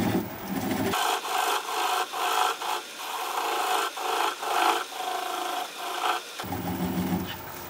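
A sweptback ball gouge cuts a small wooden bowl spinning on a lathe at slow speed, giving a steady close scraping rasp with rhythmic swells, no voices.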